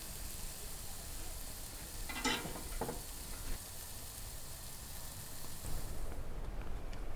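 Food sizzles and fries in a pan on the second side, a steady close hiss with a couple of brief louder crackles near the middle and no voices over it.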